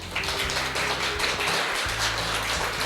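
A studio audience claps steadily to welcome nurse Kang Jeong-hwa, a 2020 safety award honoree who volunteered for 45 days against COVID-19, as a dense, continuous patter over a low hum with no voices.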